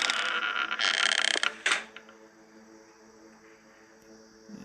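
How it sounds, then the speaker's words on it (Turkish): A door in the video game Hello Neighbor Diaries creaks loudly in a drawn-out groan, then a second sharper creak follows before fading into a low, quiet hum. "Kapı açılmak kapanma sesleri"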